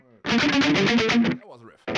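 A heavily distorted metal guitar riff runs through a Mesa Boogie-style amp and a V30-loaded Mesa cabinet impulse response: a loud, close burst of chugging notes that ends in a sliding fall, then a fresh hit, with no talk.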